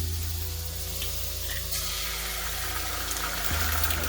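Eggs frying in butter in a cast iron skillet, a steady crackling sizzle with a constant low hum underneath, close and continuous.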